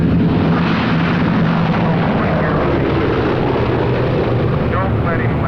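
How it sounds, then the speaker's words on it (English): A Boeing B-17 Flying Fortress trailing smoke comes in to land with only one landing gear down, its steady, loud piston-engine drone rumbling throughout beneath people talking. "the Boeing B-17 Flying Fortress trying to make it back in, trailing smoke"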